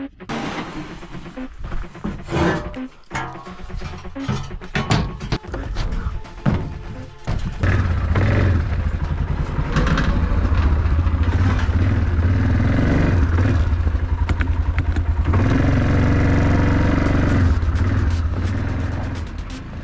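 An ATV quad engine runs steadily and loudly from about seven seconds onward, a sustained low drone while riding out to a smelt dip-netting spot, preceded by clattering, thumps and handling noise.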